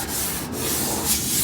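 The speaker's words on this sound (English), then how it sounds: "I'm just gonna scrub the rust a little bit, just to make sure there's no surface rust" Steady scrubbing rasp against the surface rust on sheet metal of a 1970 Dodge Dart, a brief, close, continuous rubbing sound without speech.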